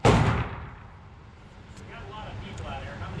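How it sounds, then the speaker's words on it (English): A single sharp shot from an IWI Jericho 941 F pistol at an outdoor range, loud and close, followed by a fading boom and rumbling echo, with no voices. "What a soft shooting gun."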